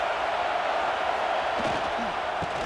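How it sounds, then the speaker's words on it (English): Stadium crowd in EA College Football 26 during a Michigan State at Nebraska game: a steady, dense roar of many fans that holds at an even level throughout, with a few faint murmurs underneath. "This crowd going to try to make life miserable for these guys"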